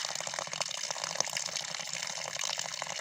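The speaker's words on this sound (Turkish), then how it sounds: "günpınar Şelalesi'nden sonra mükemmel güzellikte yeni bir şelalemiz daha oldu" Steady rushing of water pouring over a newly formed waterfall in Malatya, a continuous broadband wash heard up close with no voices.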